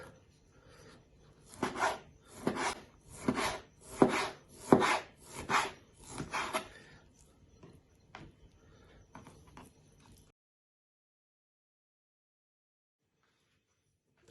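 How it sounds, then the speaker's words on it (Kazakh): Chicken breast being chopped finely with a knife, a quick series of about ten close, dull knocks on a cutting board that fade out, followed by silence. "Төс етін осылай ұсақтап турап аламыз."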